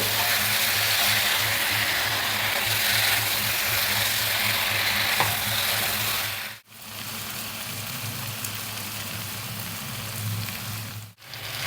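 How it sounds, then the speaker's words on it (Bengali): Chicken masala fries steadily in a pan on low heat, a dense, continuous sizzle heard up close with two brief breaks and no talking. "হাই হিটে আমরা পাঁচ মিনিট কষিয়ে নিয়েছি এবার লো হিটে আর পাঁচ মিনিট ধরে কষাবো"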